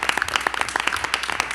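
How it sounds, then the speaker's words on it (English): Applause from the audience at a school board meeting, a dense patter of many hands clapping steadily throughout, with no voices over it. "Folks, we want to give you an applause as well."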